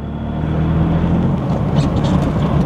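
A car drives in tight circles, its engine giving a steady close rumbling drone with a little road noise, the sound holding even throughout the short stretch.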